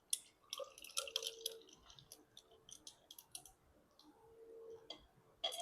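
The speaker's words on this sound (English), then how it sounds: "now that we have our ice, I'm going to go ahead and pour this" Cocktail poured at home into a glass over ice: faint clinking and splashing with scattered ticks and drips, quiet and close, without talk.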